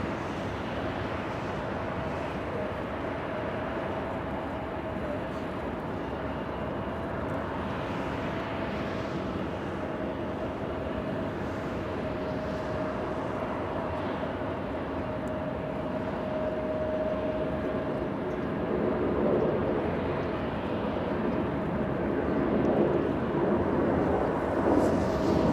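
An American Airlines heavy jet landing on runway 24 left at LAX: a broad, steady engine roar with a faint tonal whine, swelling slightly louder near the end, heard from a distance with wind noise.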